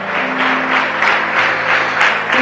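A church congregation breaks into steady, loud applause that holds for a couple of seconds, with a low musical tone sustained beneath the clapping.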